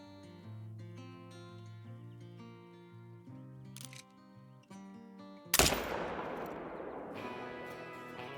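A single loud rifle shot at a coyote in the hunting game Call of the Wild, a sharp crack cutting through quiet background music and trailing off in a long echoing rumble.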